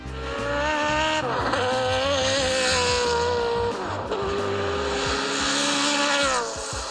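A BMW V8 race engine from the E46 M3 GTR roars loud and continuous, its pitch sweeping up and down through revs with sharp rises and drops, heard alone without talk.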